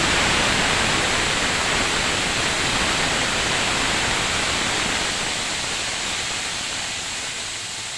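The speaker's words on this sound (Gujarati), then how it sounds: "હવે આપણે આ ટમેટા ડુંગળીને ગ્રેવી નાખીએ" Tomato-onion gravy for a Kathiyawadi green chickpea curry poured into hot tempering with bay leaf, star anise and chilli, giving a loud, steady broadband sizzle that fades slightly over the whole span, with no talk.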